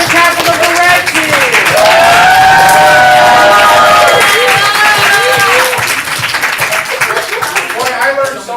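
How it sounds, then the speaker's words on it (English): Audience at a live improv comedy show clapping and cheering loudly, a dense steady wash of applause with voices calling out over it. "Give the applause going to the captain of the red team."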